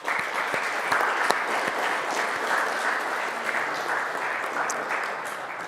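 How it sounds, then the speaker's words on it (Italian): An audience at a talk on fear applauds Miriam with steady, moderately loud clapping that holds evenly for several seconds, with no voices over it. "Facciamo un applauso a Miriam."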